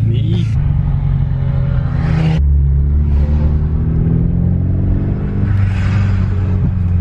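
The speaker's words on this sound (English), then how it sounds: "His drone really isn't that bad, so for having a test pipe, you do get some fumes" Low, steady exhaust drone from inside a Mitsubishi Lancer Evolution X with a test pipe, moving at about 60 in sixth gear, a deep constant hum with shifting tones, under a person talking.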